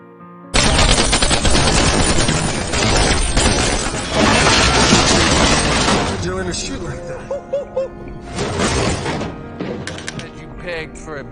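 Gunfight in a movie scene, loud bursts of rapid gunfire and scattered shots layered with dramatic score, with dialogue and narration in between.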